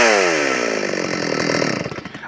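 A Craftsman (Solo 651sp) 51cc chainsaw runs loud and close, its engine note dropping from a high rev into a steady, buzzing idle that wavers slightly before tailing off. No one speaks.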